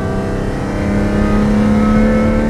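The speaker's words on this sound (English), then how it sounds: "So in the end, very different exhaust, very different nature." A Ferrari engine drones through its exhaust at steady revs, a near, sustained tonal growl that swells slightly louder toward the end.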